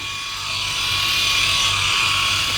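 A Philips i9000 electric shaver runs steadily close by while shaving a head, giving a continuous even buzz that swells slightly after the first half second.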